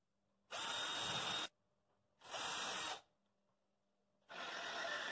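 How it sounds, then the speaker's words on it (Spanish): A power drill runs in three loud, steady bursts of about a second each with short silences between, driving screws into a homemade desk. "Lo que voy a hacer es meterle unos tornillos de acá."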